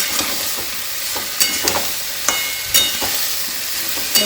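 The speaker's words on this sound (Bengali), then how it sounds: "একটু ভাজা ভাজা হোক" Food sizzles and crackles in a hot pan, with a few sharper scrapes and pops of stirring scattered over the steady frying hiss.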